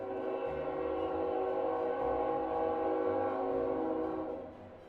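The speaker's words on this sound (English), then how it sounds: "Train." Train horn blaring in sustained, layered tones with a rumbling rail undertone, loud and steady for nearly five seconds before trailing off at the end.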